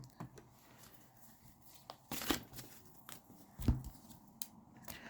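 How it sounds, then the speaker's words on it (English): A deck of affirmation cards being shuffled and one card pulled, giving close, soft riffling and flicking bursts with a couple of sharper snaps, quiet overall and without talking. "Let's pull an affirmation card and let's go ahead and close this out"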